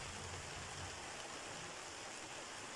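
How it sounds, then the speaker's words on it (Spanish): Heavy rain falls in a steady, dense hiss that fills the whole stretch, a constant broadband wash heard faintly at a distance without any voices. "mira cómo llueve ahora"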